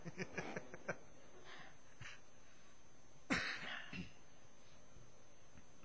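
A single sharp cough rises out of a steady background hiss, with faint distant voice-like sounds just before it.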